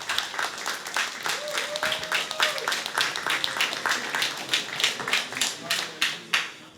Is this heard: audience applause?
yes